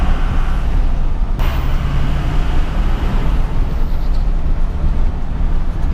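A 2005 Ford F-350 with a 6.0 diesel, running after IPR and injector replacement, drives along steadily with a continuous low road and engine rumble close by, and no talk is heard.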